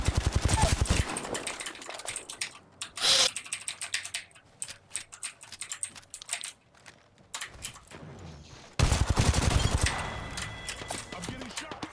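Video game gunfire striking the player: loud bursts of rapid automatic shots open and close the stretch, with scattered clicks and quieter shots in between.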